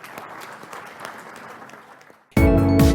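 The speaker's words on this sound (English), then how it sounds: "A round of applause, please." Audience applause follows a talk at the Cereals 2026 farming event at Clarkson's Farm, a moderate crowd clapping for about two seconds before loud music abruptly cuts in.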